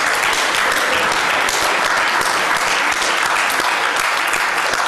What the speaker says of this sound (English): it would be good to have a good round of applause for Michael Kidd and Marion Peters